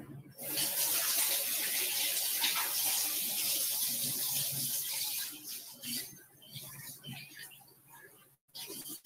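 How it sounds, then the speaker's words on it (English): Running tap water pours steadily as hands are washed, a loud close splashing hiss that fades and breaks up near the end. "Wash my hands real quick."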